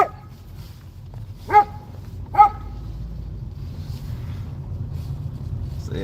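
A dog gives two sharp barks a second apart outdoors in a snowy neighborhood after a snowfall, fairly close, against a steady low rumbling background.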